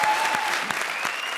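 Studio audience at a Hindi stage comedy show breaks into sustained applause, a dense wash of clapping at steady loudness throughout, with no talk over it.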